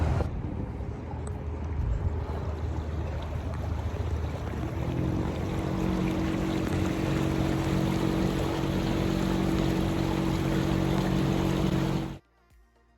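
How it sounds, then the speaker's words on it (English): Torpedo outboard engine driving a sailing boat out of the harbour, a steady loud drone that settles into a constant hum with wind and water wash, then cuts off abruptly at the end. "Testing our new Torpedo engine. Do you hear how noisy it is?"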